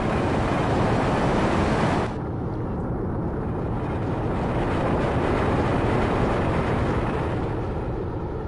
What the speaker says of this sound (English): Waiting for the train to leave.